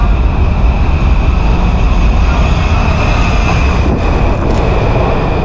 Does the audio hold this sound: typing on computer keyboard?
no